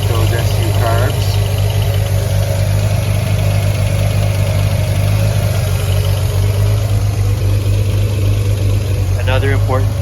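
A 1960s–70s Triumph sports car idles steadily through twin exhaust pipes, a constant low rumble running throughout, with brief bursts of a voice talking over it.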